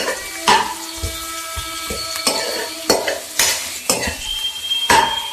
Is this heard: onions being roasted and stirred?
yes